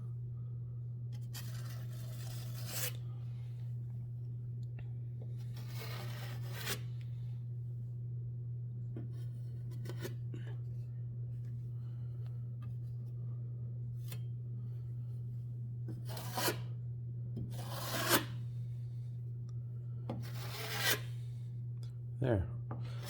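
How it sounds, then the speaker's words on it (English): A drywall knife shaves excess plaster off a chipped corner in short, separated scraping strokes, with some close and crisp, over a steady low hum. "I'll just take my drywall knife and just go up the corner like that, shaving off the excess"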